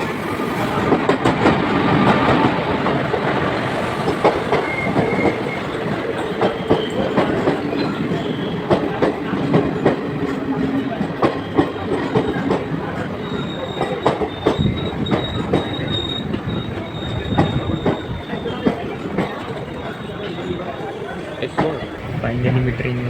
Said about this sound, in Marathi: फायनली मी ट्रेनमध्ये बसली आहे आणि ट्रेन निघाली पण आहे